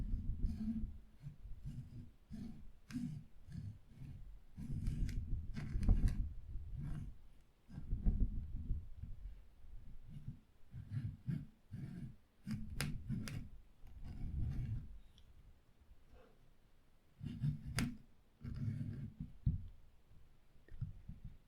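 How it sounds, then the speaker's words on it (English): Slightly serrated knife sawing slowly through a lemon in a quiet ASMR setting: soft, close, repeated rasping cuts and wet crunches in a gentle uneven rhythm, with no talking. "And gently, with this slightly serrated knife, cut through."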